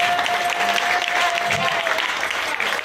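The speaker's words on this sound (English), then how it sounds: "I'd like to have a round of applause for him." A crowd applauds, dense clapping filling the whole moment at steady volume with a faint tone running underneath.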